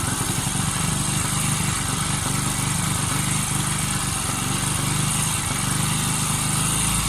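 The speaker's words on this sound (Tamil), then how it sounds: "அதுக்கு பிறகு பார்த்தீங்கன்னா ஐடில் ஆர்பிஎம் கொஞ்சம் கொஞ்சமாக குறையும்." A Bajaj Pulsar motorcycle engine idles steadily during carburettor adjustment, a continuous close, even mechanical drone with no talk over it.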